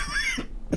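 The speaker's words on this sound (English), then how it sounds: "Excuse me, I had a really bad cough today" A person coughs once, a short harsh burst up close, followed by a brief quiet gap and a small second catch of breath.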